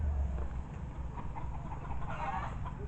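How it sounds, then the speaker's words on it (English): Chickens cluck softly in the distance over a steady low outdoor rumble, with occasional louder clucks toward the end. "you can kind of hear the chickens in the background here"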